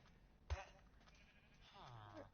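A sheep from the Minecraft video game gives a short bleat, then a longer wavering bleat a moment later, fairly faint and clean.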